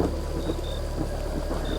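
A thunderstorm sound effect of heavy rain and rolling thunder forms a dense, continuous wash, loud and close, with no voices.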